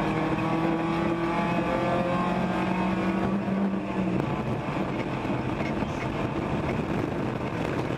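A race car in a ChampCar endurance race accelerates up a hill, its engine a loud sustained roar with rising harmonic whine that fades into broad road noise.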